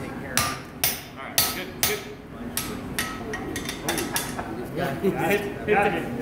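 A hammer forges a rail spike into an axe, striking about a dozen sharp, ringing metal blows close by in an uneven rhythm while people talk in the background.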